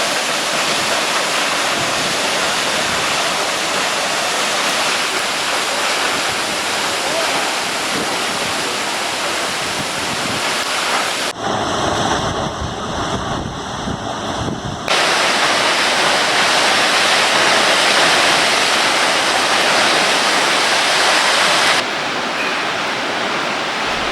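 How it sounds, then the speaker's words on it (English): Vernal Fall in Yosemite roars steadily from close by at the top of the waterfall, a loud, unbroken rush of falling water that sounds like dense white noise and has no voices over it. "I'm right on top of the waterfall. So this is basically the Vernal Fall"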